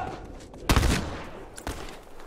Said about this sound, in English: I have no idea what you guys are shooting at or why you're shooting.